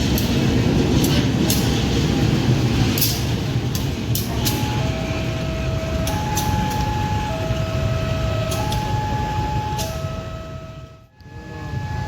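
A CC 203 diesel locomotive with a leaking radiator shunts toward track 1 at an Indonesian station, a steady loud engine rumble throughout with repeated horn-like tones, ending in a brief dip before the drone returns.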